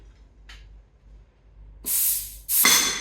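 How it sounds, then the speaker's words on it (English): Compressed air blasts out through a classic car brake pipe in two loud hissing bursts after a quiet pause with a faint short puff. "the air pressure to build up and blow the pipe out"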